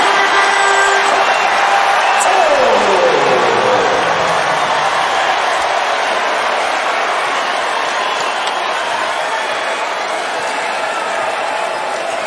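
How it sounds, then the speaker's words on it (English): A college basketball crowd at Cassell Coliseum in a 2019-20 Clemson vs. Virginia Tech game rises to its feet, a loud, sustained roar of cheering and whooping that fills the arena and holds steady throughout. "Crowd back on their feet at Cassell."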